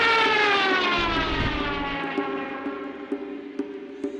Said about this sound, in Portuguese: O avião sobrevoou-os e desapareceu por trás de um prédio alto.